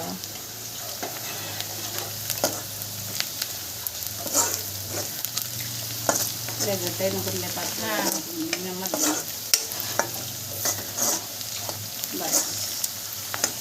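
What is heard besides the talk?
fish curry cooking and being stirred in a pot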